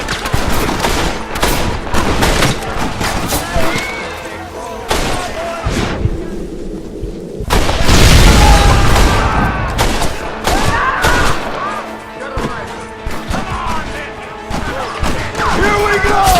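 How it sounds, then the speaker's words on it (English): A Gatling gun fires in Red Dead Redemption, with loud, rapid rattling bursts and heavy thuds broken by a brief pause, while voices shout over the gunfire. "You have the Gatling gun, Marston!"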